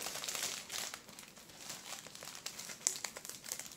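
Plastic packaging from a diamond painting kit crinkles and rustles as it is handled and pushed back into its package, a faint, close, irregular crackling.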